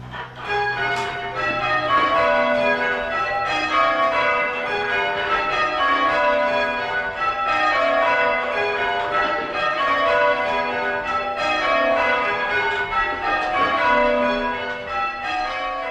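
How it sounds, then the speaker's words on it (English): English church bells ring a continuous change-ringing peal, overlapping metallic strikes falling in a steady cascading rhythm, loud and sustained throughout with no voices. "This film tells the story of the English art of bell ringing, which has been practiced and developed for over 300 years."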